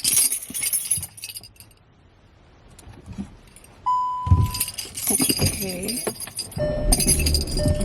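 Keys jangle and clink in bright metallic bursts, first briefly at the start and then more busily in the second half, with a faint tone and muffled movement between them.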